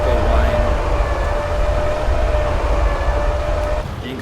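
A tank reversing in World of Tanks gives off a steady mechanical whine with a low rumbling engine and track noise beneath it, constant and close, easing slightly near the end.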